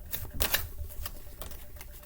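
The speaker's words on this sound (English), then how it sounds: "Put it back into shuffle." A deck of cards being shuffled, giving a quiet, brief flurry of rapid papery clicks and flutters, close by with no talk.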